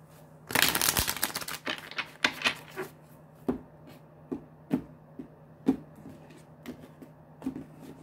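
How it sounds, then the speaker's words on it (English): A quick burst of riffling cards opens, followed by scattered soft taps and slides of cards being handled, close and quiet. "One more shuffle."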